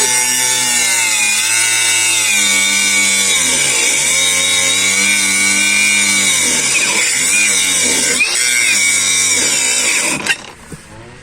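A DWT AWS 20 125 D cordless angle grinder runs at first speed, 8,000 RPM. It gives a loud, sustained high whine that dips and recovers several times under load, then cuts out abruptly near the end as its overload protection trips.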